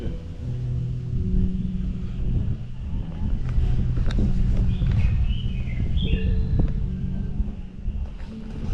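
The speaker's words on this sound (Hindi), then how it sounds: "एकदम ठंडी हवा चल रही है." Cold pre-monsoon wind rushes through a deep forest, a continuous broad roar buffeting close to the microphone, with faint bird calls and scattered knocks beneath.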